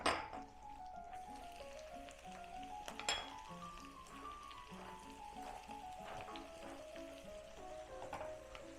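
Chopped spinach goes into a hot pot for eels in green sauce, with a quiet, steady sizzle and occasional clinks of a utensil against the pot, plus a few sharper knocks.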